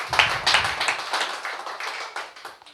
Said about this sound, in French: Si on applaudit encore le Seigneur ce matin.